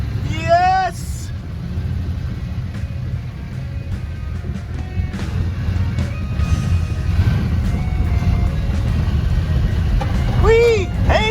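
A 1964 Plymouth Belvedere with a Poly 318 V8 rumbling and clattering continuously at close range, a steady low engine roar under squeaky chirping noises at the start and end.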